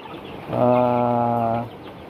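A single drawn-out call from two-week-old broiler chickens in a backyard coop, one clear tonal squawk lasting about a second, near and loud against quiet background.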